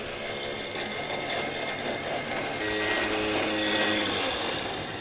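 A Thermomix grinds fresh cinnamon with dry sugar, giving a steady, close mechanical whir and rattle that runs unbroken for the full stretch and grows slightly louder toward the end.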